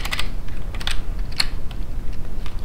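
Computer keyboard keys are pressed in a few quick, crisp clicks near the start and middle, fairly loud and close, followed by quieter background noise.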